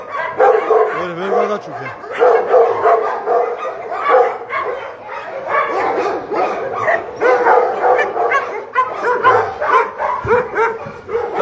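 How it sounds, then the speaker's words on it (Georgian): A Dogo Argentino at a Tbilisi dog shelter barks and yips in a rapid, repeated run close by, with a person talking over the barking. "ეს არგენტინული დოგი არის უმაგრესი ძაღლი"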